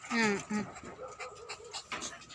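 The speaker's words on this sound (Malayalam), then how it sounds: "ഇത് ചിച്ചു ജർമ്മൻ പട്ടിയാണ്" A German dog pants close to the microphone in quick, rhythmic breathy puffs, with a few whiny voiced sounds at the start and brief human speech mixed in.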